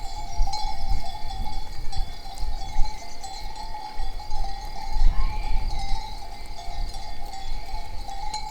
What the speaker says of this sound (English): I love hearing the sheep bells.